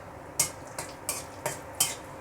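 Whole spices (dried red chilli, cumin, cloves, cinnamon and cardamom) fry in oil under a faint sizzle, broken by five rhythmic scraping stirs of a spoon against the pan.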